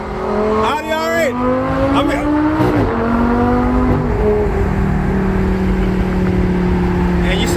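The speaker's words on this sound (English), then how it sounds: "This is a lot more pronounced exhaust note than the stock one has." A Lamborghini Gallardo LP-560 fitted with an aftermarket Italian Tubi exhaust drives along, its loud engine note revving up and shifting through gears, with a sharp rising rev early on, then a steady droning cruise heard from inside the car.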